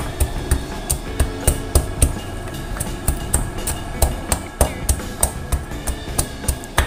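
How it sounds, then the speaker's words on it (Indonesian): Candlenuts with garlic, shallots and chilies are pounded by hand in a mortar, giving a close, steady series of sharp thuds at about two per second, with no talk. "di sini saya menggunakan bumbu tumbuk ya, jadi ini menumbuk sendiri seperti ini"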